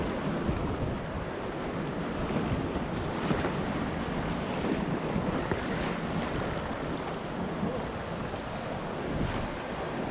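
Whitewater rapids at a kayaking course rush steadily and loudly, a continuous broadband roar mixed with wind buffeting the microphone, with no voices.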